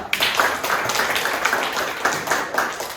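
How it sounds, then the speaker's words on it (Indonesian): Students clap their hands during a classroom lesson, a few seconds of quick, fairly even clapping from a small group with steady, closely spaced claps. "Tepuk tangan untuk mereka dulu."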